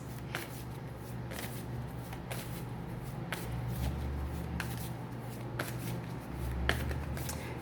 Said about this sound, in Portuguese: vamos lá tirar a última carta, vou tirar uma mandala e ler a mensagem para vocês